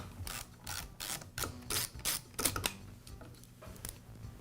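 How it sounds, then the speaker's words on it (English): Small nuts being unscrewed from the air filter housing on a Poulan chainsaw, a series of close, quiet ratcheting clicks and metallic scrapes in short bursts, with no voice. "And now I'll remove the nuts that secure the housing to the carburetor."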